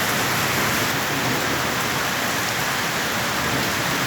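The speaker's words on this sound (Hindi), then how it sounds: "बारिश और तेज़ होती हुई" Heavy rain pours down steadily, a dense, loud hiss of water on surfaces with no pauses, and no voices.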